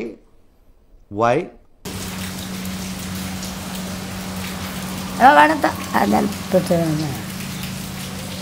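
Steady rain hisses continuously outdoors with a low hum underneath, while a voice and other speech come in over it at moments.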